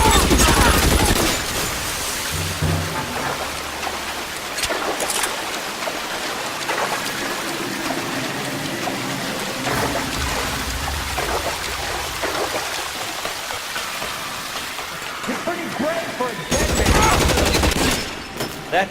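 Dense, sustained gunfire crackles through a shootout in L.A. Noire, a continuous rattling fusillade with sharp louder bursts at the start and near the end, heavy and close with a hissy, rain-like wash underneath.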